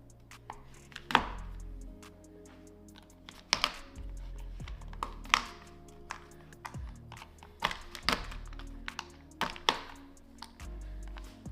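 A knife chops through two stacked chocolate bars on a board for triple chocolate chunk cookies: about nine sharp, close thunks land at an uneven pace, with quiet handling noise between them.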